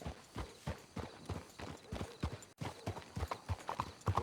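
Horses clip-clop in Red Dead Redemption 2, their hooves landing in a steady uneven walking rhythm of close, fairly quiet thuds, with a brief dropout partway through.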